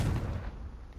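A Confringo blast spell fired in the Hogwarts Legacy video game, a loud booming burst that fades into a rumbling tail, heard alone.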